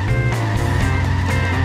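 Car engine in The Simpsons Hit and Run video game, a steady low motor drone with a faint rising tone throughout, loud and continuous with no talk.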